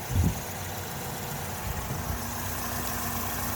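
A 2008 Chevy Malibu LS with a 2.4 liter 4-cylinder Ecotec engine idles under an open hood, a steady close low hum with a brief thump near the start.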